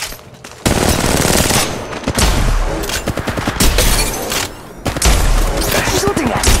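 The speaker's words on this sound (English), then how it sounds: "I'm taking fire. They're shooting at me." Rapid automatic gunfire from a shooter video game, dense bursts and sustained fusillades with deep booms, loud and close, broken by brief pauses, with voices calling out over the shooting.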